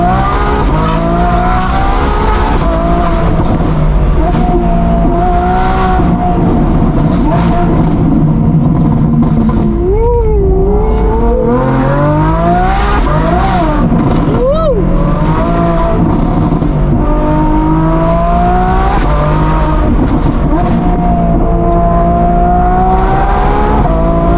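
A twin-turbo Ferrari F12 engine rumbles deeply at idle, then revs sharply several times, the exhaust rising to a loud growl before settling back to a throbbing idle.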